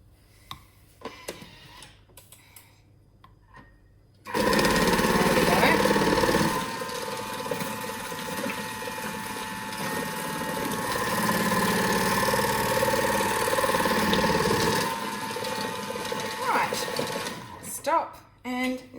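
A Thermomix cutter attachment slices cabbage wedges for coleslaw, giving a steady mechanical whir with a rhythmic ticking chatter that runs for about ten seconds between quieter handling noises.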